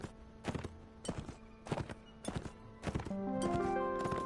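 Horse hooves clip-clop in an even, rhythmic stride during a riding exercise in the video game Mount & Blade: Warband on PS4, followed by a rising sustained musical tone near the end.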